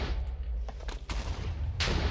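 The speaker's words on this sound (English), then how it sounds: "Shoots out little bombs of TNT and stuff like that." A modded Minecraft weapon fires TNT bombs in the game, giving a rumbling, noisy burst of explosive blasts with several sharp cracks layered over a constant loud roar.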